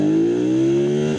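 A BMW F800 GS motorcycle engine revs hard and climbs steadily in pitch, loud and close, a smooth rising mechanical whine that builds throughout the short burst.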